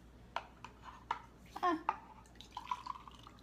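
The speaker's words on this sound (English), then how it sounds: "I'm just going to pour this." Close, small splashes and drips of water being poured out of an unplugged diffuser's small reservoir, irregular trickles with a brief gurgling burst in the middle.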